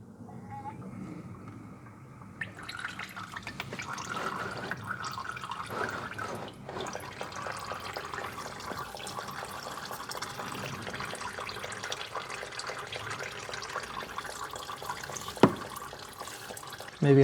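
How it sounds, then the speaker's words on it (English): Transmission fluid drains from a Mercedes W204/W205/W212 gearbox while air is applied, a steady liquid trickle and drip running throughout with faint shop noise and a brief clunk near the end. "we're going to now bleed additional fluid out of this transmission by applying some air to it"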